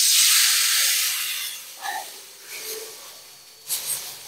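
A flank steak sears in a hot cast iron pan inside a wood-fired Gozney Dome oven. A loud, close hiss hits at first and fades over a second or two, then softer sizzles and a few brief scrapes follow.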